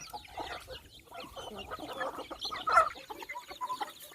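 Several chickens cluck steadily at a rice-field hut in the evening, with small chicks kept in a wicker coop basket; the busy, overlapping clucks stay close and moderately loud over a soft outdoor background, peaking briefly near the middle.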